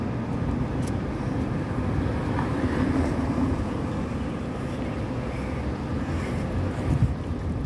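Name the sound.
wind while walking outdoors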